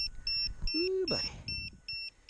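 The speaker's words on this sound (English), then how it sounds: "That is some intense beeping right there." Rapid electronic beeps from a large-winged RC plane repeat in a steady pattern, with a brief voice-like sweep in the middle; close and fairly loud.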